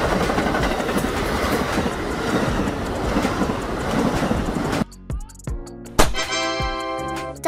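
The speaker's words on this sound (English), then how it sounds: "Double-decker train." A double-decker passenger train rolls past close by with a loud, steady rumble for about five seconds. The noise then cuts out, leaving brief clanks and a sustained tonal squeal or horn-like sound.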